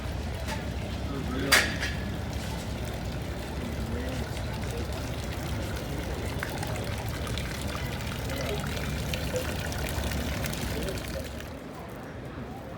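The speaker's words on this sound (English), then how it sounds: "There's another nice little fountain." A small outdoor fountain in downtown Grand Junction splashes and pours steadily and continuously, with someone talking over the constant watery rush and a brief sharp knock early on.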